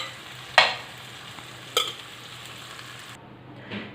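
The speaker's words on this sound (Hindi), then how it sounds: "इसी तरीके से मैं सारे कबाब जो हैं फ्राई कर लूँगी" Beef kebabs frying in a pan, a soft continuous sizzle underneath two sharp clinks of a utensil, heard close with no voices.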